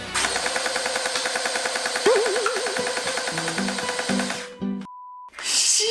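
A toy M416 rifle from Battlegrounds merchandise rattles in a fast, loud mechanical burst that stutters and fades. A steady beep tone follows.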